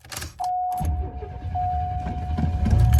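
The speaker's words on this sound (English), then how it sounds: "Now, I'm gonna start it up." A 1987 Buick Grand National turbo V6 cranks and fires up up close, settling into a steady idle with a faint high whine running through it.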